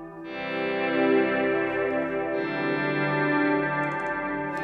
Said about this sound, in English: It's because it's a long reverb tail.